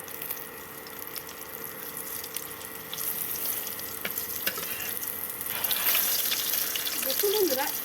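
Pumpkin leaf fritters coated in mustard paste frying in a pan, a steady sizzle with scraping as the fritters are turned, growing a little louder toward the end.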